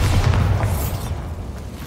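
Bombarda blasting spell going off in the game Hogwarts Legacy, a deep booming explosion that rolls and rumbles through the short clip, loud and close with a heavy low-end thud fading slightly toward the end.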